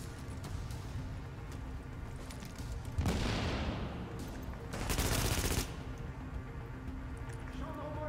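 Gunfire from a gun in The Division erupts in two loud bursts of rapid shots, separated by quieter background game noise with scattered fainter shots.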